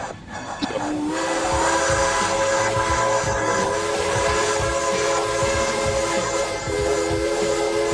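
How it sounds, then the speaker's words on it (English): A passenger train nearby, its loud, sustained horn or whistle tones layered over rumbling, rhythmic rail clatter for the whole stretch. "Is that the train?"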